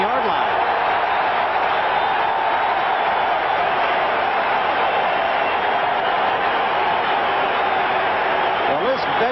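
A large crowd of Eagles fans at Veterans Stadium during a 1987 Cowboys–Eagles football game, a steady loud roar of cheering that holds for the whole stretch.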